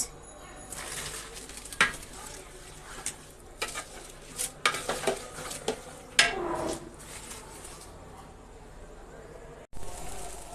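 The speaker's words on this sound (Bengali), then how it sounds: "সাদা পোলাও ভাজা হয়ে গিয়েছে" White pulao rice fries in a pot, with soft sizzling and intermittent stirring scrapes and clinks of a utensil against the pot, some louder knocks midway.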